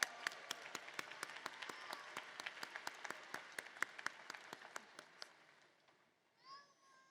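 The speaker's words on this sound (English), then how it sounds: "let's give them all a round of applause" Scattered clapping rises from a crowd at a community college graduation ceremony, distinct sharp claps in a loose rhythm that fade out after about five seconds, followed by brief faint voices.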